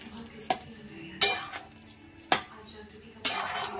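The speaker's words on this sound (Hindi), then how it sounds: "अभी शक्कर डाल दी, इसको मिक्स कर देते हैं" Sugar being stirred into carrot halwa in a pan, a spoon scraping and clattering against the metal in four sharp strokes spaced over a quiet sizzle of cooking milk and ghee.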